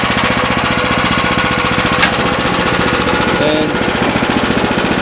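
A Sears 26-inch snow blower fitted with a 9HP Honda-clone engine runs steadily while the auger spins, giving a loud, even, rapid chugging throb. One brief sharp click stands out partway through.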